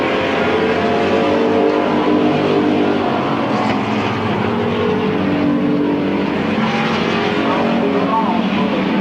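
Race cars on the final lap at Midvale Speedway in 1995 make a continuous loud engine drone that swells and fades slightly, with an announcer talking over it.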